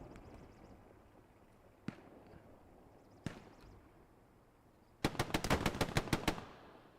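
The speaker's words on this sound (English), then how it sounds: "President Casey guns down one inside the church." A few isolated single shots followed by a rapid automatic burst of roughly a dozen gunshots, loud and close, during a video game battle in Glow's Battlegrounds.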